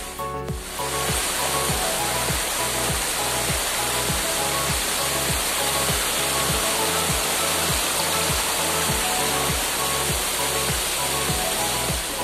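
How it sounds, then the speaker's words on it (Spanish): A waterfall on the Pita river near Sangolquí roars in a dense, steady rush of water that sounds close and loud and stays even throughout, with no voices. "Hermosa cascada también, la cascada de la niña"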